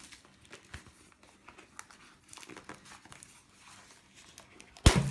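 Plastic wrapping crinkles and tears off a new Apple keyboard in a series of soft, scattered rustles, ending in one louder, sharper rip.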